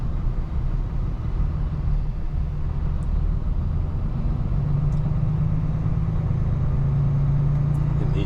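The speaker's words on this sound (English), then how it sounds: "I think these cars are getting desperate." Road traffic heard from inside a truck cab in slow city traffic near a bus lane: a steady low engine rumble and idling drone fills the whole stretch, with no talking.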